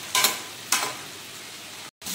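Chicken masala frying in a pan for a home-cooked Sunday chicken curry, with two sharp sizzling bursts as food is stirred, fading into a low steady hiss that cuts out briefly and returns.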